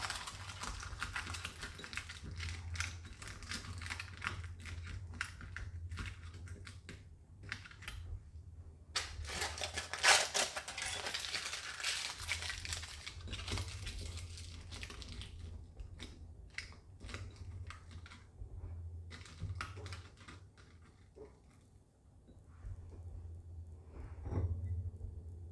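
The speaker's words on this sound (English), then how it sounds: "Now I'll just take some tin foil and crumple it up and just fill in this space right here." Tin foil crumpled by hand while filling a space in a Dollar Tree glass cloche Easter centerpiece, giving dense crackling and rustling bursts close up, with a brief louder crinkle midway, over a steady low hum and no talk.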